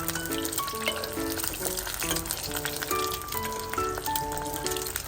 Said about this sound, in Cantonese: 煎蛋好簡單嘅